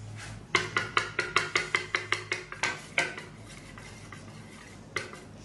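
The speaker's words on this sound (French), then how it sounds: "Alors on va remuer maintenant la partie liquide." Liquid ingredients for vegan chocolate cookies are stirred in a bowl with a spoon, giving a quick, regular run of about a dozen clinks, then a few slower taps, with no speech.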